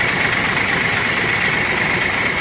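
A large Rosalia Indah intercity bus engine idles nearby at a bus depot in Palembang, a constant loud droning hum with a faint rattling vibration that never changes pitch.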